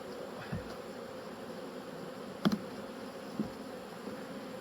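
Honey bees buzz in a steady, low drone close by, with a few faint taps and bumps breaking through the hum.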